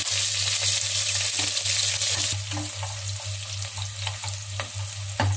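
Onions fry in hot oil with spices for seeraga samba chicken biryani, giving a loud, continuous close-up sizzle with occasional scraping and stirring sounds from the pan, and no talking.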